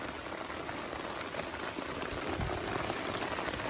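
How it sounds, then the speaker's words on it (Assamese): Heavy rain drums steadily on a camping tent overnight, a dense continuous patter of drops close around the shelter with no voices. "জোখতকৈ মানে বেছিয়ে বৰষুণ দিছে"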